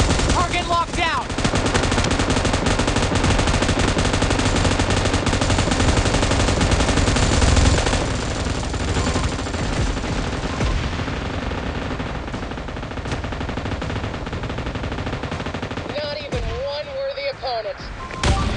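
Sustained automatic gunfire from PUBG Mobile gameplay, dense continuous bursts of machine-gun shots near and loud for most of the stretch, easing slightly later, with game sounds and faint voice callouts mixed underneath.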